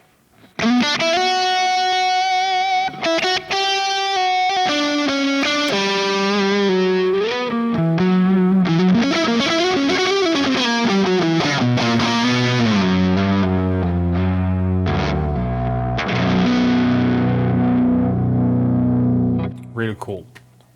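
An electric guitar played through a Kemper amp profile plays a lead line with distortion, delay and reverb, notes ringing and echoing into a sustained wash, loud and close.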